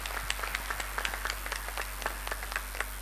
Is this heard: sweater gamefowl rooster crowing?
no